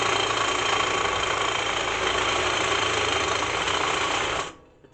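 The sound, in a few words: cordless power tool running on a nearly dead battery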